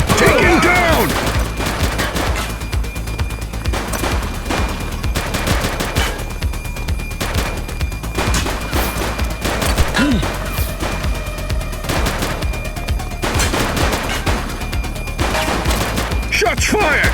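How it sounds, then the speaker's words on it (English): Rapid bursts of automatic gunfire crackle through a police shootout in the video game The Precinct, loud and nearly continuous with sharp impacts and brief gaps, while voices shout faintly underneath. "Shots fired!"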